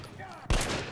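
Gunfire in Metro Last Light bursts out abruptly after a quiet stretch, a loud close volley that rolls on under a low background wash.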